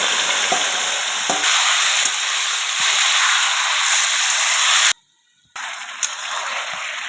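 Bay leaf, cumin, chopped onion and meat crackle in hot oil tempering for a meat curry with yam, a loud, close frying hiss with occasional stirring knocks, briefly cutting out before resuming.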